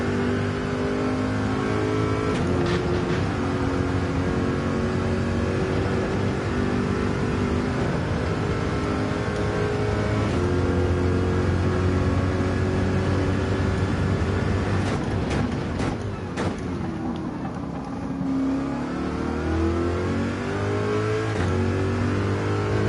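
A race car in Gran Turismo 7 holds a loud, continuous engine roar that climbs and falls through gear changes as it accelerates out of corners, with brief sharper bursts midway and no talking.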